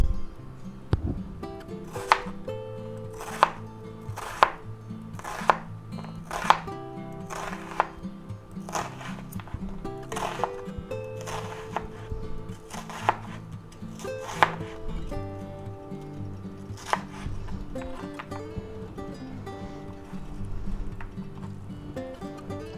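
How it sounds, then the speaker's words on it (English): A knife slices an onion on a cutting board, sharp regular chopping strokes in a steady rhythm over soft background music, slowing and fading toward the end. "now let's go ahead and slice up our onion."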